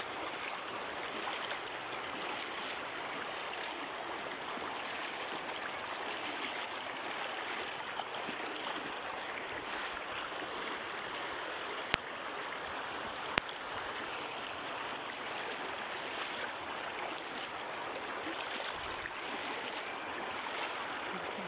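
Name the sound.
river stream water flowing over rocks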